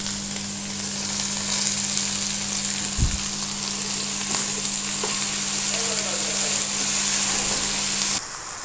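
A half-fried mixture sizzles in a pan, loud and steady from start to finish with one sharp clank of a utensil partway through, then the sizzle cuts off abruptly near the end.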